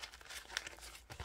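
Paper softened with conditioner is crushed by hand, giving a soft, muffled crinkle with little crispness: a few close, quiet rustles and squashing sounds over about a second.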